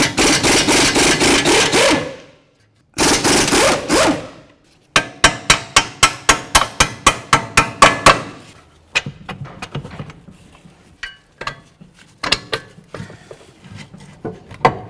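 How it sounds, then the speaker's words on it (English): Removing the nut from a strut knuckle bolt on a 2012-2017 Toyota Camry, loud up close: long buzzing runs of a power tool, then sharp rhythmic clicks or raps that thin out into scattered knocks. "Hold the bolt side, remove the nut."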